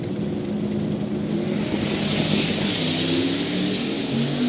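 A 2006 Ford Mustang with an LS engine and a single turbo roars steadily at a drag race, a loud sustained engine drone with a broad rushing hiss building through the run and no talk.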